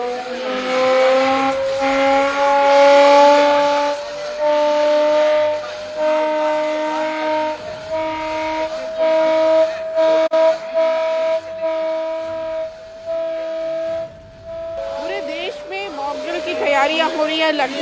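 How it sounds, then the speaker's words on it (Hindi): A civil defence air raid siren wails during a mock drill rehearsal at the police lines in Lucknow. It holds one loud, sustained tone that slowly climbs in pitch, with faint voices and background bustle underneath. "इस तरह से सायरन बजाया जा रहा है।"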